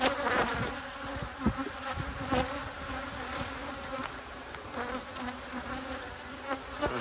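Bees swarm around a big hive, a dense, continuous buzz with individual insects droning past close by, steady and loud throughout with no talking.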